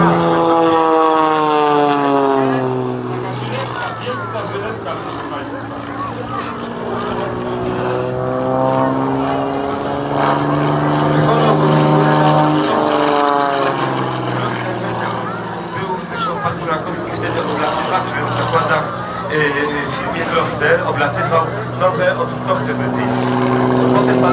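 A propeller aerobatic plane drones overhead at an air show in Kraków, its engine note rising and falling in pitch as it flies an aerobatic figure, under a commentator's continuous talk.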